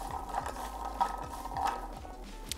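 Green beans tossed in grapeseed oil in a pan: a soft, continuous stirring scrape with light clinks of utensil on pan and a faint sizzle underneath, fairly quiet and close.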